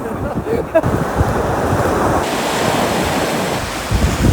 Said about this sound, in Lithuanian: Dabar net šiltas vėjukas pučia taip gera.